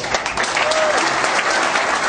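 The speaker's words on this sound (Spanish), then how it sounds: "Bien fuerte el aplauso" Loud, sustained clapping from a political gathering's crowd applauding a friend and fellow politician, dense and steady with a faint voice or whistle briefly rising above it.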